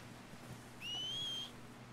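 In the Red Dead Redemption 2 game, a single clear, sustained whistle calls a horse, lasting about a second over a low, steady background hum.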